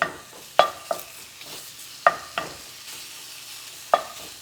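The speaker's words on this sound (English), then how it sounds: "now we're going to cook our bacon halfway" Bacon partly cooking in a pan for a biscuits-and-gravy breakfast casserole, with a soft steady sizzle under several sharp, close utensil clicks and taps against the pan.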